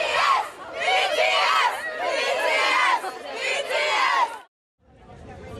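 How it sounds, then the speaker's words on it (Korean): Hundreds of BTS fans crowded outside the White House fence, a loud, continuous roar of cheering and excited shouting voices that swells in waves, then cuts off abruptly before faint crowd murmur resumes. "백악관 밖도 팬들의 함성으로 들썩였습니다."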